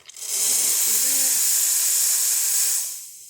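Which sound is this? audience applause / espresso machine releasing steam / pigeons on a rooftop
espresso machine releasing steam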